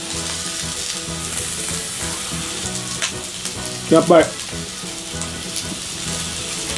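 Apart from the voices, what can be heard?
meat grilling on a tabletop hot plate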